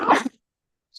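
A single sharp human sneeze, loud and close, bursting at the start and then dropping into silence, with only a faint brief tick near the end.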